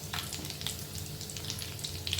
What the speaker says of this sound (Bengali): এটা আমরা লাল লাল করে ভেজে নেব